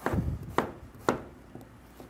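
A knife chops vegetables on a cutting board in a firehouse kitchen, making about five sharp, evenly spaced close knocks with no talking.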